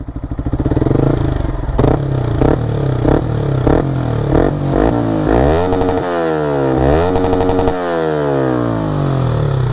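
A Yamaha MT-15 motorcycle fitted with an Akrapovic R1M exhaust, revved to high rpm in repeated rising and falling bursts, loud and close, with a raspy, crackling tone and no speech.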